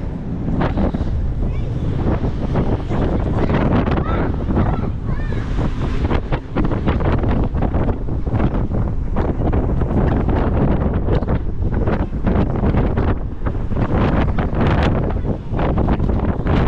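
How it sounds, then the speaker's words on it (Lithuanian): Strong wind at sea on a journey to Norway, buffeting the microphone with a constant roaring rush and the wash of waves, loud and unbroken throughout. "Galiam koks vėjas."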